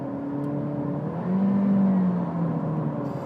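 A 2017 Honda Civic with the 1.5-litre engine accelerates in sport mode, its engine hum rising and falling as it hunts between gears, a steady moderate drone heard from inside the car.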